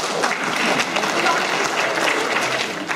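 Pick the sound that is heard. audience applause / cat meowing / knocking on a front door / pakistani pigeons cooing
audience applause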